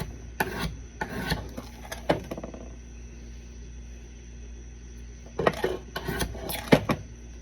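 Metal file rasping along a knife blade edge in short bursts of strokes, a cluster early, a pause, then another quick run of scrapes, close and dry with quiet gaps between.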